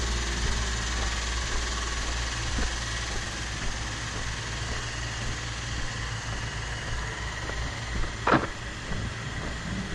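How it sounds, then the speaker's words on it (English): A crane's engine idling in the countryside, a low, steady rumbling drone with faint knocking, heard from some distance and fairly quiet, with a brief sharp knock near the end. "Oh, that's a crane."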